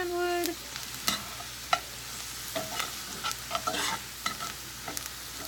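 Food is stirred and fried in a skillet, a steady low sizzle broken by repeated scraping strokes of a utensil against the pan, close and fairly quiet.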